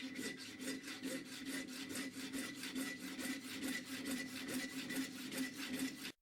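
Hacksaw cutting an aluminium rod held at an angle in a lathe: even back-and-forth rasping strokes at a steady rhythm, about three per second, close and moderately loud, stopping abruptly at the end.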